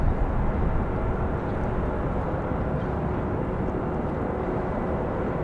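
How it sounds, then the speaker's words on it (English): An American Airlines Airbus A321 jet rolls out on the runway at Raleigh-Durham airport, a loud, steady, broad engine roar that holds evenly throughout with no voices. "Got an A321 for American Airlines rolling out now as well"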